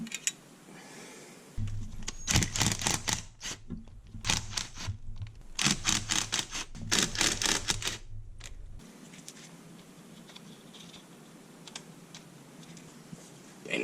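Rocker cover bolts coming off a Honda S2000 F20C engine, heard as rapid clusters of close metallic ratchet clicks and rattles in several bursts, then a quieter hiss of workshop background.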